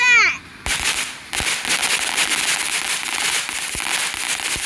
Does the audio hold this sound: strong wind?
no